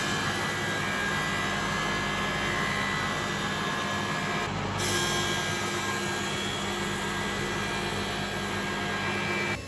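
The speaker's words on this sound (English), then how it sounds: "I chose the 3 best boards and finished milling them up on the thicknesser" A thicknesser planes reclaimed hardwood boards with a loud, constant roar and high whine that run without a break. There is one brief dip in the high end partway through as a board passes, and no voices are heard.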